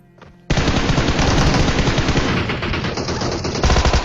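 Automatic gunfire in the mobile shooter PUBG Mobile: after a faint half-second lead-in, a loud unbroken stream of rapid shots rattles for over three seconds, briefly intensifying near the end, with no voices.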